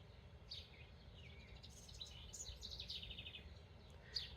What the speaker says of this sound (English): There's that little bird singing.